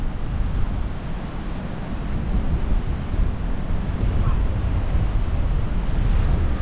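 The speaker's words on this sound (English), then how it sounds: "And it's quite windy here." Strong wind sweeps across a beach, buffeting the microphone in a steady roar while surf breaks continuously underneath, loud and close, with no voices.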